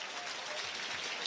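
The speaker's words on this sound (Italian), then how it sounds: "Applausi anche della Q&A Arena" Arena crowd applauding after a winning point in a Lube volleyball match, a dense, steady wash of clapping that fills the whole moment without pause.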